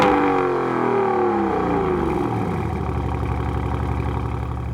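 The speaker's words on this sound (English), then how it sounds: "That fires up the engine." A Lamborghini Urus engine fires up with a rising, revving whir and then settles into a steady, smooth idle, close and continuous with no talk.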